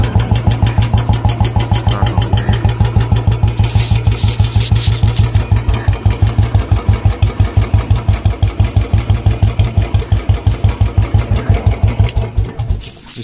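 A Bullet motorcycle engine, kick started, settles into a loud, close, steady thumping idle with an even single-cylinder beat that carries on for several seconds before cutting out at the end.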